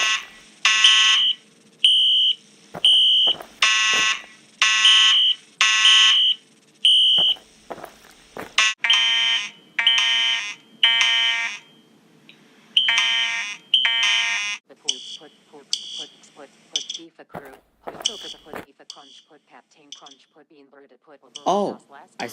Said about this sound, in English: Well, I heard a fire alarm.